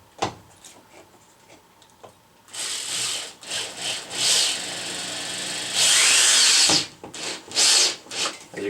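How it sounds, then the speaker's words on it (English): Power drill driving a screw into wood behind drywall while fixing a wool clothing drying rack, with a quiet start, then loud bursts of grinding whir that stop and restart several times, close up. "Put the drill bit back on my drill"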